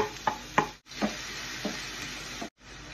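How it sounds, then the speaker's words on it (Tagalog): Onion and garlic sautéing in oil in a pan, with a steady background sizzle broken by a few short stirring scrapes and a brief quiet gap near the end. "Sutayin na natin yung onion garlic."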